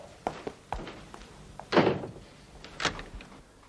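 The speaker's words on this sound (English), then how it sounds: "Lock the door." A door shuts with a solid thunk followed by a couple of lighter knocks and clicks, close by in a quiet indoor room, with no one talking over it.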